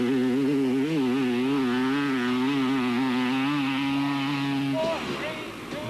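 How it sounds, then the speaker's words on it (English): A KTM enduro motorcycle at a 2001 enduro event revs hard in a sustained high buzzing whine that holds steady and then drops off near the end, loud and close, with voices around it. "Alfie Cox gets away on the big KTM"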